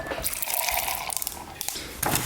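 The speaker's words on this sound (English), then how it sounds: "And then I use the hot water tap. Bit of hot water." Hot water running from a kitchen tap into a cup, a bright close hiss of flowing water with brief breaks and changes in tone as the stream shifts.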